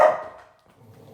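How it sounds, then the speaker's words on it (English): A dog indoors in a house gives a single loud, close bark that fades quickly into a quiet room. "I don't want to go back into this room with this barking dog at me"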